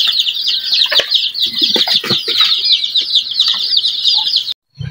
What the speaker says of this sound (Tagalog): Meron na naman tayo mga sisiyo na kasunod ang ating 1 month.